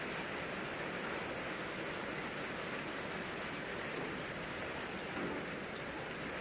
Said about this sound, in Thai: ฝนตกมา